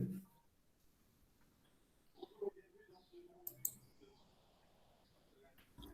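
A few faint computer mouse clicks sound in a quiet room while a Google Classroom video meeting is saved: a small cluster of soft, brief clicks near the middle, isolated and close.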